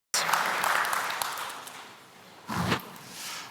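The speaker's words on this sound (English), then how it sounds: "So I think a big round of applause." An audience at a live chess challenge event claps in a short burst that fades, then a thud and a little more clapping follow.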